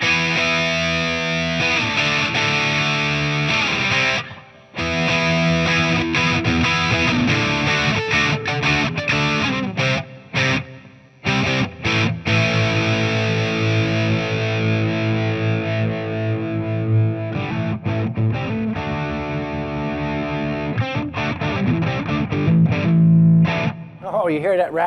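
A Keeley Super Rodent distortion pedal with its SD tone stack drives an electric guitar through loud, saturated chords and riffs that ring on with a few brief pauses, alone and with no talk.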